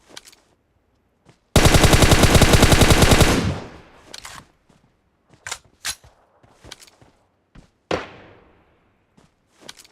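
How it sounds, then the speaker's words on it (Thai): Enemy gunfire in the PUBG Mobile battle game: a loud, rapid automatic burst of about two seconds, then scattered single shots and sharp cracks at varying distances over faint background noise. "นี่ไงตัวขวายิงอยู่เนี่ย"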